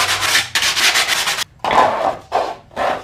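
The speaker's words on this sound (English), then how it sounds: "So I'm going to take some sandpaper. This is a nice 80 grit." Hand sanding with 80 grit sandpaper on a stormtrooper forearm prop piece, loud close rasping strokes, two long passes followed by shorter bursts with brief pauses between.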